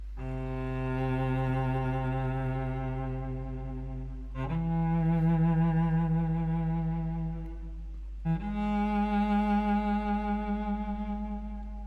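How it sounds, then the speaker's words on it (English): Solo cello from the Bohemian Cello virtual instrument plays three long bowed notes, each swelling quickly in volume, with steady tone and brief gaps between them. "You got your mid arc, which is a faster crescendo."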